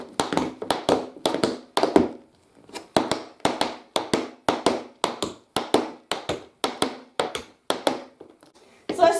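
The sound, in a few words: tap shoe heels hitting the floor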